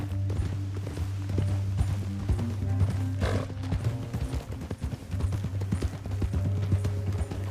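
Horse hooves clop in a quick steady rhythm in Red Dead Redemption 2, close and clear over a low constant hum, with a brief whinny-like burst partway through.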